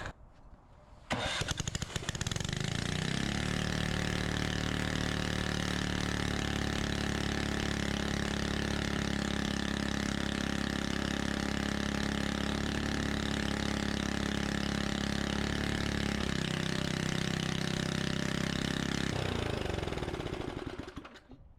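A small engine fitted with a slightly incompatible cylinder head starts on full choke and runs loud and steady for about twenty seconds, with no exhaust fitted, then cuts off abruptly.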